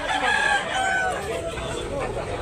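A rooster crows at a gamefowl sale in Tabunok, Talisay, Cebu, a drawn-out call heard over a busy background with people talking nearby.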